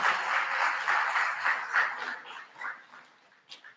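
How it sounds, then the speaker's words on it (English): An audience at a senior thesis event applauds in a dense, fairly loud burst of clapping that gradually thins out and fades over a few seconds. "Let's give a round of applause to our media team."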